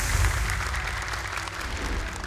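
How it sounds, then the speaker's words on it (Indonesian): Studio audience applauding young Quran reciters Al-Fatih and Alifah on a Hafiz talent show, a steady, dense wash of clapping held at an even level throughout. "Boleh tepuk tangan dong untuk Al-Fatih dan juga Alifah."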